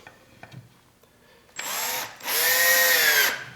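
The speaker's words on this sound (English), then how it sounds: "Drive it in through the hole in the pocket hole." A drill drives a Kreg pocket hole screw into a wooden face frame in two close, loud whirring bursts, the second longer and rising in pitch as the screw seats, after some quiet handling noises.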